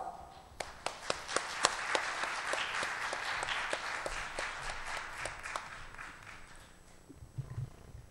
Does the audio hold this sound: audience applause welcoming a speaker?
yes